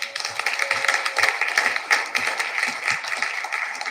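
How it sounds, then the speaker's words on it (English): An audience at a university conference applauds, a thin, fairly faint patter of clapping from a modest crowd with a few sharper individual claps standing out, steady for several seconds. "Can we give them another round of applause?"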